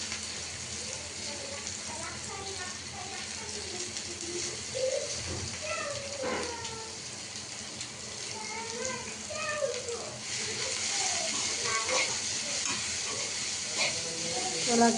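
Ponnaganti greens drop into hot tempering oil in a pan, setting off a steady hiss and sizzle that runs throughout, with a voice talking over it and occasional clinks.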